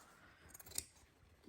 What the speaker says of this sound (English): I'm using a monster of a pair of scissors.